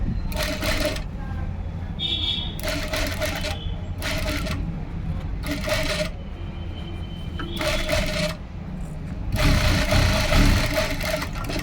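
A sewing machine stitching lace onto a sleeve runs in repeated short bursts with pauses between them, close by, and a longer louder run near the end.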